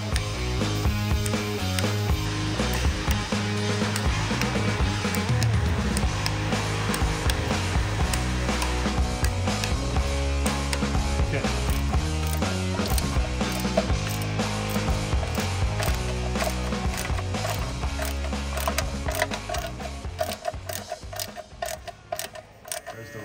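A ratchet torques down an airplane propeller during final installation, giving dense, rapid metallic clicking that runs steadily and loud for most of the stretch before growing sparser near the end.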